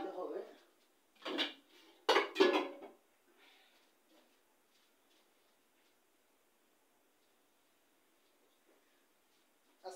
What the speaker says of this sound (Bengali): ঢাকনা দিয়ে রাখলাম, এগুলোর একটা ঢাকনা দিতে হবে